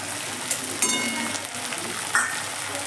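Ginger paste fries in hot oil with onions, a close, even sizzle and crackle with scattered pops and a few short stirring scrapes.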